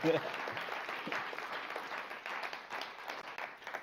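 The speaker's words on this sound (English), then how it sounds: "Let's give them one last round of applause." Audience applause at a guide dog graduation ceremony, a scattered patter of clapping from a modest crowd, fairly faint and distant, with voices mixed in.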